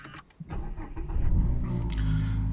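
A Mazda MX-5 RF 1.5 engine starts via the stop-start button: a few clicks, then the starter cranks and the engine catches, settling into a loud, steady idle close by.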